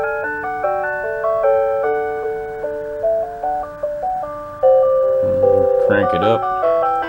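A Mr. Christmas Gold Label Holiday Carousel plays The Entertainer as a bright, chiming mechanical melody, loud and close, with a few soft clicks and handling noises near the end.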